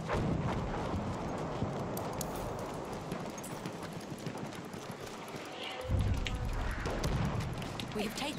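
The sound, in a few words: horse galloping in Battlefield 1 video game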